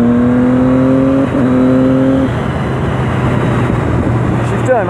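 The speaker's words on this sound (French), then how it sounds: "Oh, le bruit du 3 cylindres, il est magnifique." A Triumph 675R Daytona three-cylinder sport motorcycle fitted with an Arrow exhaust holds a steady, loud engine drone heard up close while riding, its tone dropping after about two seconds into a rougher rumble.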